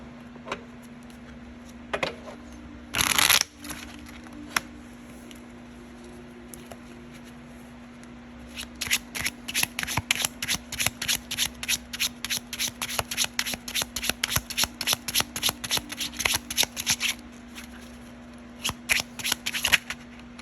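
Tarot cards are shuffled close up in several bursts: a quick riffle early on, then a long run of rapid, even rustling flicks with a few short bursts at the end, no talking.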